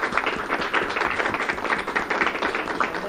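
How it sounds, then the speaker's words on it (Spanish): Dense, steady applause from an audience honouring schoolchildren at an award ceremony for a national healthy-schools contest, continuous clapping filling the whole stretch at even loudness. "felicitarlos y brindarles un aplauso especial"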